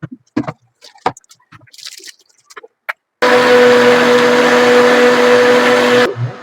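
A blender runs loud and steady for about three seconds, mixing a homemade milkshake of cashews, almonds and protein powder, after a stretch of quiet clinks and handling noises before the motor starts.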